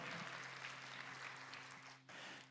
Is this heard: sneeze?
no